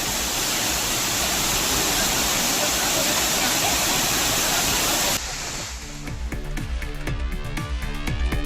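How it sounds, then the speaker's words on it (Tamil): The Meghamalai waterfall in the Western Ghats roars after heavy rain, a loud, dense, continuous rush of falling water for about five seconds before it cuts away to a voice. "மேற்கு தொடர்ச்சி மலைப்பகுதிகளில் பெய்த மழை காரணமாக மேகமலை அருவியில் தண்ணீர் ஆர்ப்பரித்து கொட்டுகிறது"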